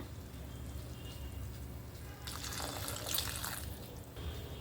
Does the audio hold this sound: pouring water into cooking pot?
yes